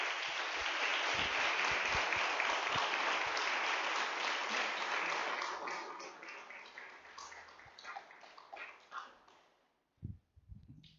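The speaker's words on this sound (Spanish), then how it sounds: "Denle un aplauso a la presencia de Dios" Applause from a church congregation fills the first half loudly and steadily, then thins into scattered claps and fades out, with a brief low thump near the end.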